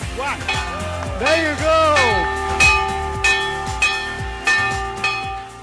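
A bell rings repeatedly in a steady rhythm, each strike ringing out with sustained metallic tones, while people talk over it.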